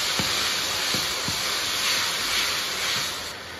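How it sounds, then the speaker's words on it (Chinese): A steady, hissing sizzle fills the pan as sauce is stir-fried with soy sauce and glass noodles for a cabbage bun filling. No one speaks. "把酱炒出香味，加入酱油"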